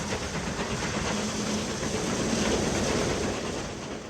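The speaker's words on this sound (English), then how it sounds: "an austerity class heads for Fife with coal empties" An Austerity class steam locomotive hauling a train of empty coal wagons passes close by in a steady, loud roar of rolling stock and hiss, holding for several seconds before easing slightly.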